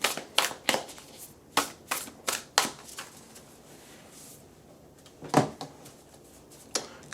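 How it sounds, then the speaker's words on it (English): An oracle card deck is shuffled by hand, producing a series of crisp riffling snaps in quick bursts, close and fairly loud, with a pause before a final few shuffles. "So let's go ahead and shuffle."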